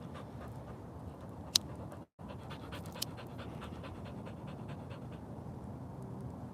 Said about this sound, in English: my dogs are good dogs. I got 4 pits.